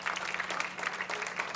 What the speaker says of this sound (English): Continue to keep the applause coming.